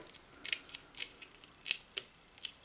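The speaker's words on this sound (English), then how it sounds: "I'm going to go grab my scissors because I cut those" Kitchen scissors snip small hot peppers for fermented white kimchi, giving about eight quick, crisp cuts in an uneven rhythm, close and fairly quiet.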